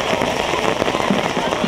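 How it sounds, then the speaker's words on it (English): Steady rain pours down during a girls' high school lacrosse game, a dense continuous hiss with scattered heavier splats throughout. "Rain has picked up once more."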